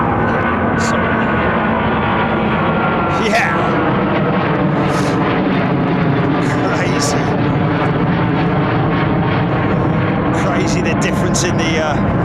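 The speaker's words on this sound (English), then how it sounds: "that A350 that just went out" An Airbus A350 jet departs overhead from runway 09R at London Heathrow, a loud, sustained engine roar that fills the whole stretch with steady broadband rumble and whine, close and continuous.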